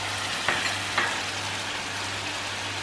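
Thinly chopped cashews fry in a pan for malai kofta, giving a steady close sizzle with a couple of soft stirring knocks near the start and no voices.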